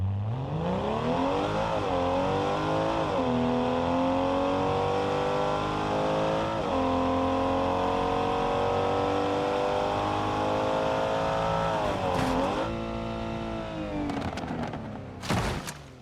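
A BMW G30 engine revs hard and holds high, a loud continuous roar climbing in pitch with a couple of dips between pulls, then easing off before a few sharp bursts at the end.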